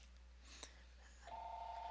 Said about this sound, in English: you'll hear the phone ring here in the background